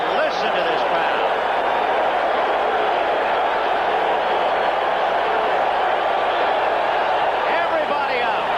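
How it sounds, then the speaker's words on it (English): A large baseball stadium crowd at a 1983 NLCS playoff game roars in a steady, dense wall of cheering, with a commentator's voice over it. "Boy, listen to this crowd."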